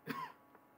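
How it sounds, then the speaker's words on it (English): A single short cough with a throat clear, close and fairly quiet, lasting under a second. "I'm sorry about the cough."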